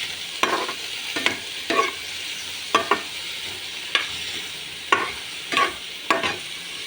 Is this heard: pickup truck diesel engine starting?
no